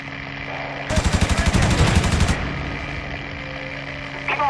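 A single burst of about a dozen rapid, evenly spaced machine-gun shots from an aircraft in IL-2 Sturmovik on Xbox 360 rings out for just over a second, loud and close over a low engine hum.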